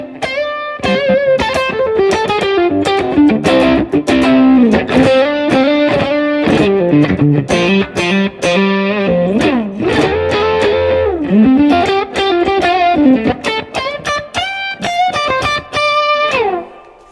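Electric guitar on a 60s spring reverb channel without tremolo plays a lively run of chords and single notes, each decaying into a splashy, wobbly spring reverb, loud and continuous.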